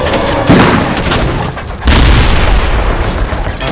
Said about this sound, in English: firing a lot of cannon rounds.